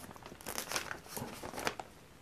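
Packaging of a OnePlus 8 Pro phone set opened by hand, with soft close crinkling and rustling of plastic and paper in bursts, fairly quiet and without talking.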